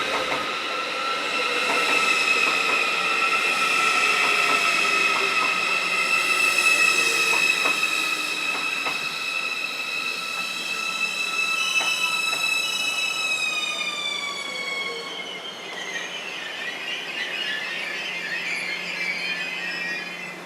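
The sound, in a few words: intercity passenger train passing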